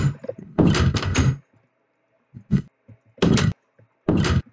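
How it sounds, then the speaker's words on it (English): Blocky wooden doors closing in the Minecraft video game, a murder-mystery party server, heard as several separate short thuds spaced apart with brief gaps of near silence between them. "Close the doors up."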